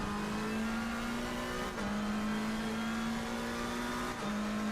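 A race car engine in Assetto Corsa Competizione drones at a steady high pitch, holding nearly constant revs with two brief dips as it shifts, loud and continuous with no talk.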